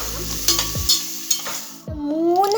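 Tomato, carrot and capsicum stirred in a hot pan, with scraping spoon strokes at a steady pace over a continuous sizzle. No one speaks.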